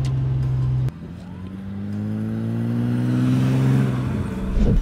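BMW 7 Series with automatic gearbox and torque converter accelerating, a loud engine hum that drops at a gear change, then rises steadily in pitch and volume as the car pulls, with a swell at the end.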